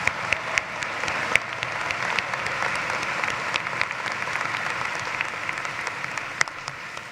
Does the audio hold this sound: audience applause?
yes